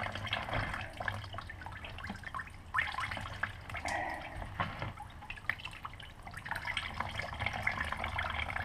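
Old coolant draining from a car's bottom radiator hose, a steady trickling and splashing of liquid running into a catch pan, close and continuous with no talk.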